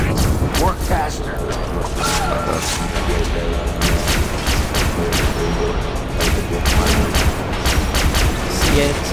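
Far Cry 3: Blood Dragon video game combat, with rapid bursts of gunfire and explosive booms crackling densely over a constant loud game soundtrack, while a player talks over the action.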